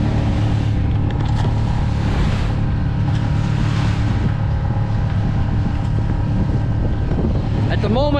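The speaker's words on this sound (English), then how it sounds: "At the moment, I'm head to wind motoring, bashing out of the place you don't want to go" A sailboat motoring head to wind during solo sailing, with a loud continuous engine drone smothered by heavy wind rushing and buffeting across the microphone.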